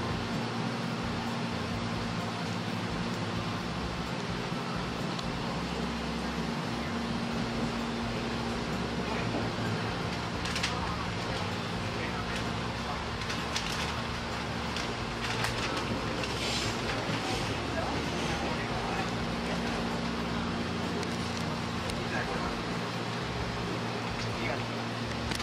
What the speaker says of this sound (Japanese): とりあえず、103系の走行音をしばらくお楽しみください。